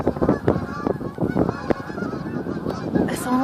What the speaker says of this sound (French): Il y a les oies sauvages, les bernaches qui sont en train de passer dans le sud.